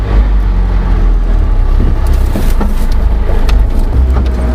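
A four-wheel drive vehicle crossing Simpson Desert dunes, a loud steady low engine drone from inside the cab with rattles and light knocks from the bumpy track.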